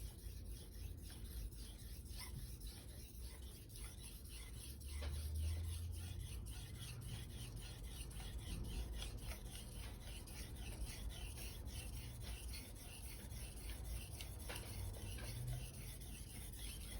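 Knife blade stroked across a Naniwa combination #1000/#3000 whetstone, giving a steady, quiet scraping and rubbing that repeats in close strokes for the whole stretch, with no voices.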